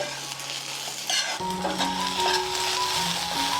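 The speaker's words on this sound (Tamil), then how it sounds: "அடுப்பை வந்து சிம்மிலேயே வச்சு இதை நல்லா கொஞ்சம் வறுத்துக்கோங்க" Spice ingredients for egg gravy roasting in a pan over a low flame, with a low steady sizzle and a few scraping stirs, plus faint tonal hums and metallic rings near the pan.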